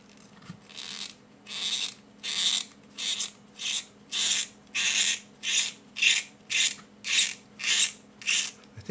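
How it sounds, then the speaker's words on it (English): An HB pencil turned in a cap sharpener, producing a steady run of about fourteen rhythmic rasping scrapes, close and clear with no talking. "I'm gonna sharpen it with this cap sharpener"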